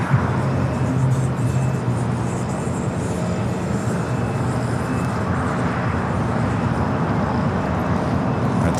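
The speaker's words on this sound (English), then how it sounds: "A little turn and burn there for that Dreamliner. Now rocking and rolling down to 24 left." A Boeing 787 Dreamliner turns and taxis toward runway 24 Left at LAX, with a steady, continuous jet-engine roar and rumble heard from a distance and no breaks.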